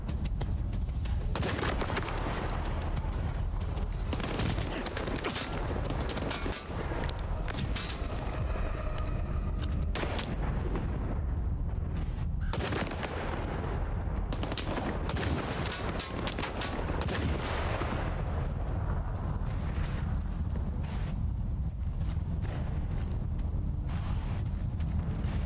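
Sniper rifle and other gunfire in the video game Stalker 2, a series of loud sharp shots spaced irregularly across the scene over steady wind and ambient game noise, with no talk.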